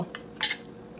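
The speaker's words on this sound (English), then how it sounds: "So we're gonna mix that sauce all in there." A utensil clinks against a bowl as sauce is mixed into food. A few brief, close metallic taps land in quick succession, quiet overall.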